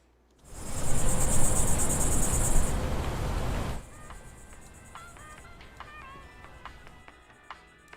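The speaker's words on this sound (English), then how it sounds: "you might hear some like crickets" Loud, dense cricket chirping fills the first few seconds, then drops to a quieter night ambience with scattered chirps and faint bird calls.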